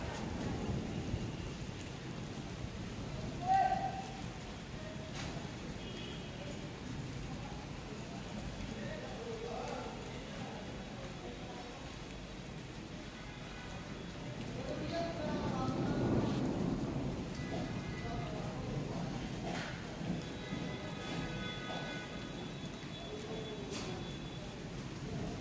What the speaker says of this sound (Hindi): तो गाइस ये देखिए बिन मौसम बरसात हो रही है